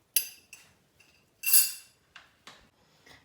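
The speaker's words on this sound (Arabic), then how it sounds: "وغنخلط كلشي ونرجع" A utensil strikes and scrapes against a bowl while chocolate cake batter is mixed, giving about seven clinking taps at irregular intervals with one longer scrape, close and fairly quiet.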